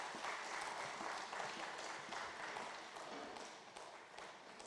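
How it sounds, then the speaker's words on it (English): A lecture audience at the 2016 Wole Soyinka Lecture gives another round of applause, a faint, steady spread of crowd clapping that slowly tapers toward the end. "I think we should give him another round of applause"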